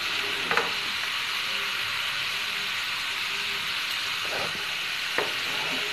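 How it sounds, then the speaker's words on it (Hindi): Potato French fries sizzle steadily in hot oil on a gas stove, a continuous close frying hiss with a few brief louder crackles and stirring clinks. "देख सकते हैं कितना अच्छा ये फ्राई हो रहा है यहाँ पे।"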